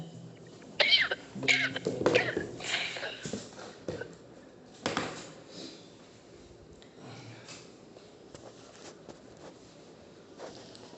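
Coughing during pranayama breathing practice: a cluster of several harsh coughs and throat clearing early on, followed by quieter scattered coughs and sounds, heard close over an online group session.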